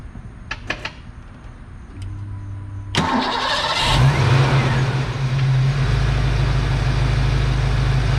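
A few clicks and a short whir, then a Fox Body Ford Mustang engine cranks and catches, revving briefly before settling into a steady, loud idle after an idle reset.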